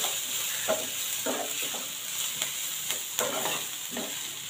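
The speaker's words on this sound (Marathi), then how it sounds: "मसाले आपले कांद्यावर चांगले परतून घ्यायचे।" Spices fry with onions in a pan for tomato bhaji, a steady close sizzle broken by rhythmic scrapes of a spatula stirring every half second or so.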